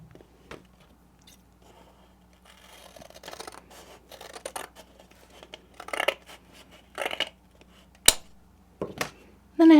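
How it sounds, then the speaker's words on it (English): Scissors snip through a paper folder in a handful of short, crisp cuts that grow louder toward the end, close by, with quiet handling rustle between the snips. "I'll just cut this one off."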